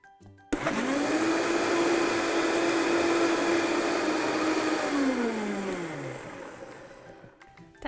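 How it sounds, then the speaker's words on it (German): A kitchen blender purees a cooked vegan strawberry sauce with xylitol, running loud and steady for about five seconds after starting up, then winding down as the motor slows and stops. "Als nächstes gebe ich es in einen Mixer und püriere es gut."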